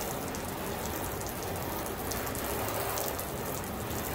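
Water sheeting off a waxed car body coated in Fusso Coat, Seal n Shine or Super Hard Shell, heard as a steady, broad hiss like rain pattering on a surface, continuous and fairly close for the whole stretch with no talk.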